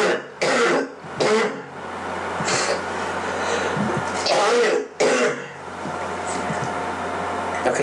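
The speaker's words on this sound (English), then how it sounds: "I just had a cough." A person coughs close by in a few sharp, throaty bursts, with a faint steady hum from the room behind them.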